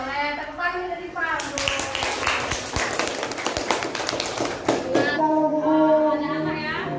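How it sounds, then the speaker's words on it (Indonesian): Classroom children clap in a brief rapid burst, sandwiched between stretches of an adult talking, the clapping close and moderately loud. "Boleh tepuk tangan dari Sipa."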